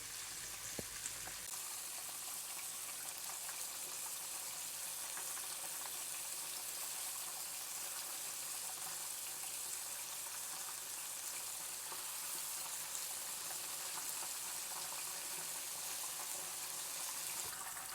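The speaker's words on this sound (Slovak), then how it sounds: "Tých kuracích stehien nedávajte do horúceho oleja naraz veľa, lebo olej by sa vám mohol prudko ochladiť." Chicken thighs deep-fry in hot oil with a steady, dense, hissing sizzle that holds at an even level throughout, heard close up with no talking.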